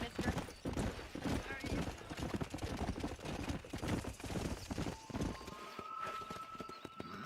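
Horse hooves galloping in the video game Red Dead Redemption, a fast rapid clip-clop that is loud and close, fading out near the end.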